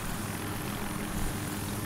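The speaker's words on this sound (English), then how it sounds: "Where's the chopper going?" A helicopter in a video game tank battle on a canals map whirs with a steady, dense rotor and engine drone that fills the whole moment at an even level, with no voices over it.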